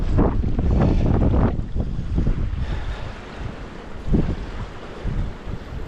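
Cold wind gusting outdoors during trout fishing, a broad rushing roar buffeting the microphone, strongest at the start, then easing into uneven lower gusts with a brief surge midway, no talk.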